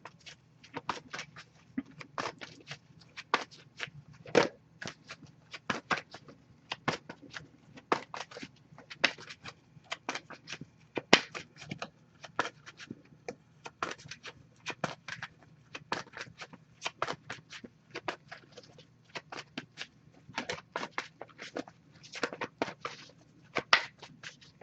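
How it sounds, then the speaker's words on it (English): Oracle cards from the Wisdom of the Oracle deck being shuffled by hand, a quiet close run of crisp riffling snaps and papery flicks in an irregular rhythm with no talking. "we'll pull a card from the Wisdom of the Oracle deck"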